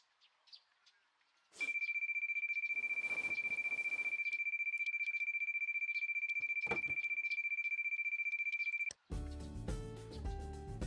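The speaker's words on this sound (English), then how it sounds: "I click off my phone's alarm and check the time." A phone alarm in a visual novel game rings as a loud, continuous, rapidly pulsing electronic tone for about seven seconds, then cuts off as music begins.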